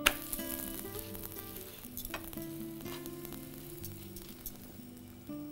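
Drumstick-leaf lentil dosa sizzling on a nonstick pan just after flipping, a steady close frying hiss with a sharp clank at the start and scattered light scrapes.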